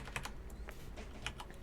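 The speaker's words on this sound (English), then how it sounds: "that keyboard is like loud." Loud computer keyboard typing from a player's old gaming recording, a quick close run of sharp clicking keystrokes in an uneven rhythm, with no talk.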